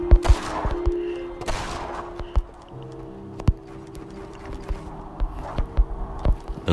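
Scattered gunshots in a video game, sharp cracks rising out of a busy game soundscape of footsteps, hooves and ambient noise, some shots close and loud, others fainter.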